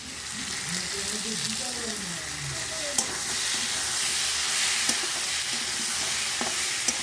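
Spice paste with coriander leaves and green chili paste frying in oil, a continuous close sizzle and bubbling hiss with a few faint utensil ticks and a brief low voice underneath.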